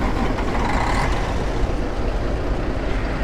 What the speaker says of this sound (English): This is the Detroit Diesel Series 60 with 515 horsepower underneath the hood.